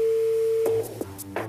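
A steady electronic telephone line tone holds for about half a second, then breaks into short clicks and faint tonal blips.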